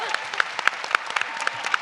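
Audience applause at a fan convention Q&A panel, dense clapping with a few sharp individual claps standing out, fairly close and continuous.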